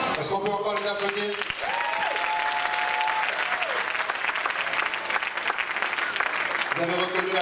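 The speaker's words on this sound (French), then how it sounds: "Est-ce qu'on peut encore les applaudir?" A church audience at a French-language Sunday school presentation applauds in a steady, dense wash of clapping that lasts throughout, while voices and a brief tonal, sung-like sound rise over it.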